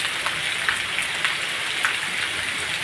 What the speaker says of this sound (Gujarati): આ રીતે આ રીતે દબાવે વરસાદ